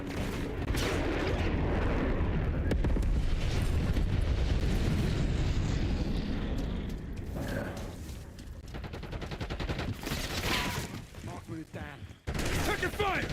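Napalm strike in Call of Duty Black Ops 6, heavy rumbling explosions and bursts of gunfire rolling for several seconds, loud and close, with quieter sharp shots and scattered game sounds afterward.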